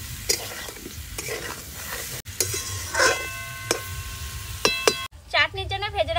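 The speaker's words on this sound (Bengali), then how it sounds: "এবার 5 মিনিট আমগুলো মশলার সাথে কষিয়ে নেব।" Mango pieces stir-fried with turmeric and chilli powder for a chutney, giving scraping stir strokes and a light sizzle with clinks of utensil on pan, close up; a voice speaks briefly near the end.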